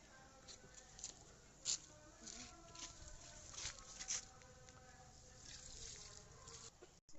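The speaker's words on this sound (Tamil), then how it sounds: "இப்போ பார்த்தீங்கன்னா மீன் அமிலத்தை செடிக்கு ஊற்ற போகிறோம்." Fish amino acid solution, diluted about fifty times with water, poured onto garden plants: a faint, irregular patter and trickle of liquid with a few small splashes, heard quietly and close.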